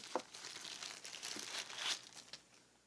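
A small plastic bag holding a new smartwatch crinkles and rustles close by, with a few sharper crackles among softer handling sounds, quiet and alone.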